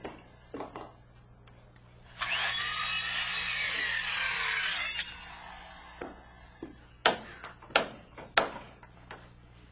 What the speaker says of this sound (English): We just want to saw these ends down below the level of the sheeting.